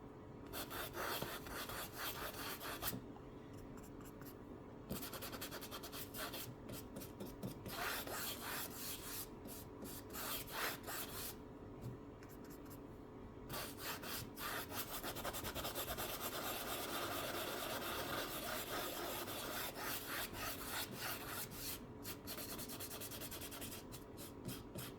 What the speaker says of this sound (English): Keep on scrubbing it till everything's covered.